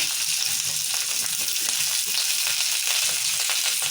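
Chillies and onion frying in oil for a lentil chutney, a loud continuous hissing sizzle heard close, with faint stirring ticks underneath and no speech.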